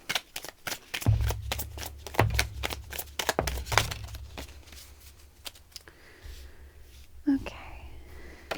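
Tarot cards being shuffled by hand, a run of crisp riffling clicks and flutters close up for several seconds, then tapering into quieter handling.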